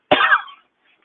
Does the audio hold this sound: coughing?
yes